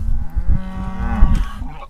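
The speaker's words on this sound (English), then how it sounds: "I just got a cow coughing on camera." A cow coughs, a rough, throaty bellow with a coughing edge, close and loud, lasting a couple of seconds.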